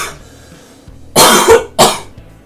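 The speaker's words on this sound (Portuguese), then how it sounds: "Oh, tosse maldita." Two sharp, harsh coughs close to the mic, the first longer and followed by a brief pause, then a second shorter burst.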